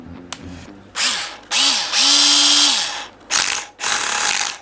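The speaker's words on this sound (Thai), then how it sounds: "นี่คือเสียงกระแทกครับ" A Makita HR140D cordless 12V rotary hammer runs in hammer drill mode in several short, loud, close bursts, its motor whining up and down under a harsh rattling hammer action, with pauses between triggers.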